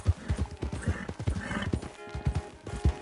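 Horse hooves clip-clop steadily in the Western video game Red Dead Redemption 2, with a brief whinny in the mix and a loud, close, even gait throughout.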